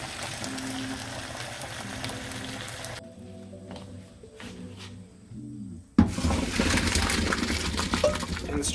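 Cooked pasta is drained of its water, with a rushing pour and splashing that drops away midway, then returns loud and steady, alongside some handling and scraping noises.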